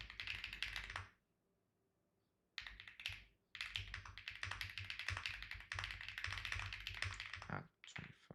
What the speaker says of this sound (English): I'm almost done typing this up.